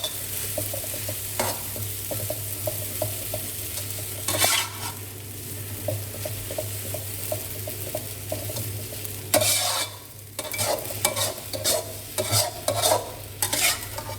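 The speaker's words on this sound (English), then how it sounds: "Stir and toss gently until everything is well coated in the sauces." Glass noodles are stir-fried and tossed in sauce for a Thai pad woon sen, with a constant soft sizzle under repeated rhythmic scrapes and clinks of a utensil against the pan.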